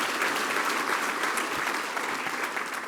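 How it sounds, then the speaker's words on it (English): An audience at a keynote event in Banff claps steadily, a dense even wash of applause that fades slightly toward the end, with no talking over it. "Feel free to applaud."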